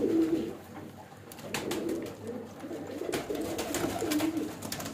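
A young pigeon being picked up and held coos softly in repeated low calls close by, with rustling and handling noise throughout.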